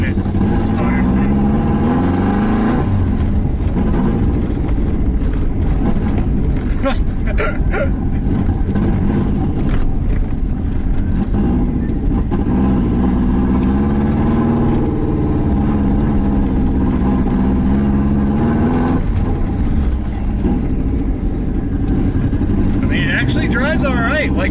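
An LS-swapped, turbocharged Mazda Miata is driven with the engine loud and close throughout. It pulls and revs in rising surges, and people talk over it.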